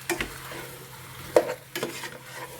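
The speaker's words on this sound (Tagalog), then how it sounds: "Haluin lamang po natin sa mga ingredients niya." Pork ribs being stirred with other ingredients in a pot for sinigang, a few close scraping stirs and a sharp utensil knock over a low sizzle.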